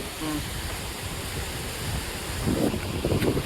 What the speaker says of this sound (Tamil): செம்மையாக காற்றடிக்குதுங்க, நிற்க கூட முடியல, செம்ம காற்றடிக்குது.